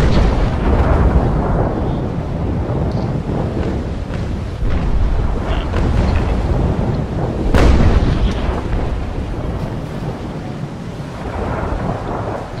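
Ship cannons firing in a brig naval battle video game, heard as a loud, continuous rumbling roar of heavy booms rolling together, with one sharper blast standing out midway.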